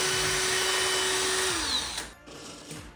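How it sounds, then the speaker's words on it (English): A power drill whines steadily as it bores up through a plasterboard ceiling into the attic, then the motor winds down and stops. "now all I need to do is drill a hole through there into the attic for the cables to feed through"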